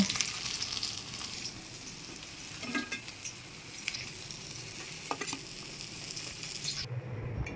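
Parshe fish frying in hot oil, a steady close sizzle with soft crackles and occasional stirring scrapes that cut off abruptly near the end; no talking.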